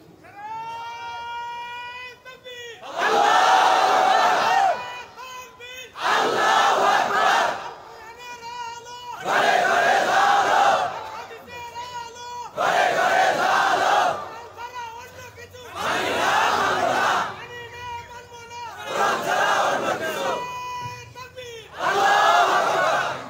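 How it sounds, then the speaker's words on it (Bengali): A large crowd at a religious sermon shouting takbir in loud, unified bursts, about eight waves of chanting separated by short pauses, with a single voice leading between them. "মাশাআল্লাহ, খুব সুন্দর তাকবীর হচ্ছে।"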